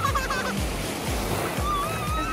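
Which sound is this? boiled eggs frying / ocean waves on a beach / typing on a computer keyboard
ocean waves on a beach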